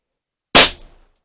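A single sharp shot from a 4mm Flobert pistol, a loud, abrupt crack that decays quickly into silence.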